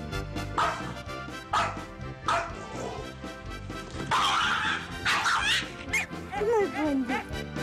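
A dog barks and yips in short repeated bursts with whimpering between them, loud and close over a busy background, in a scene where a cat bosses a dog around.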